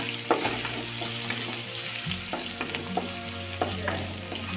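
Garlic cloves fry in a pan with a steady oily sizzle, broken by light spoon taps and stirring, heard up close throughout, with no voices.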